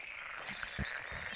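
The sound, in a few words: frogs croaking in the video game Take a Walk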